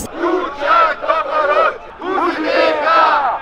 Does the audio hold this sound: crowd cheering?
yes